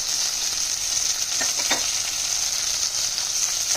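Eggplant curry seasoned with chili powder sizzles steadily in a frying pan, a constant bright hiss with a few soft scraping stirs, close by and without talk.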